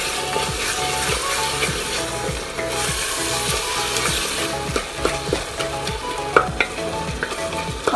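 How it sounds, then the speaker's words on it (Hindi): Minced mutton and coarsely ground onions sizzle steadily in a hot pan, with repeated scraping and stirring strokes of a spatula cutting through the frying. "और पांच मिनट तक इसको खूब अच्छी तरह से भूनेंगे प्याज के साथ"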